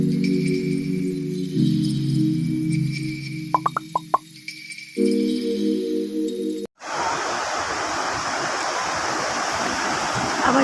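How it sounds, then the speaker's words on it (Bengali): Sea waves at Bakkhali beach on the West Bengal coast surge in as a loud, steady broadband roar during the last four seconds, after an opening stretch of tonal, musical sounds. "ঢেউ না দেখলে আর সমুদ্রের ঢেউটাই তো মেন।"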